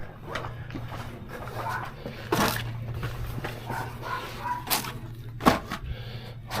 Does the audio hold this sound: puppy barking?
yes